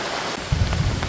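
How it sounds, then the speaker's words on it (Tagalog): A low rumble of thunder rolls in beneath heavy, steady rain, the boom rising suddenly midway and lingering over the hiss of the downpour. "Kumukulog."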